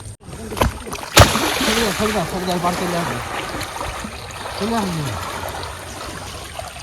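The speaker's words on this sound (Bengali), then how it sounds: "আমাদের কিন্তু নৌকো নামানো হয়ে গেছে আর এবার যাচ্ছি কিন্তু আমাদের গন্তব্যের দিকে" A small wooden fishing boat being pushed off and launched into water in the Sundarbans forest, with splashing and sloshing water under loud voices of people shouting and talking throughout.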